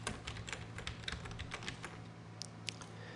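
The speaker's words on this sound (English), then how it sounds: "I'm going to type After Effects." Steady typing on a computer keyboard produces a run of rapid, close key clicks over a faint constant hum, with no talking.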